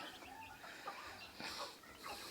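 Chickens cluck in short, scattered bursts against a steady outdoor background hum, moderately close, with no one speaking.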